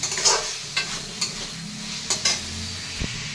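Potato pieces frying in spiced masala in a pan make a low, continuous sizzle, broken by several sharp scraping strokes of a stirring spoon.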